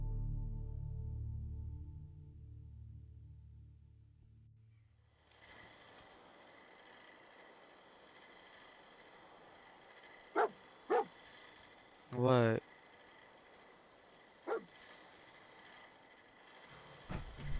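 A dog barks in Fallout 4, several short sharp barks plus a brief whimpering yelp over quiet game ambience after an opening stretch of low music; a voice speaks briefly.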